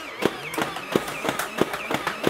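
A Nerf Elite XD Rhino Fire toy blaster fires foam darts in a steady rhythm, about seven sharp, loud pops with short gaps between them.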